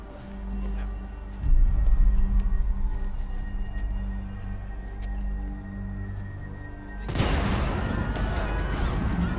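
Explosions in the Marvel's Spider-Man video game, heavy rumbling booms with a sudden crashing burst partway through, over low game ambience and faint voices.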